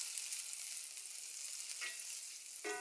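Butter melts in a skillet for Southern-style sautéed potatoes with a steady, bright sizzle that runs alone throughout, plus a small clink near the end.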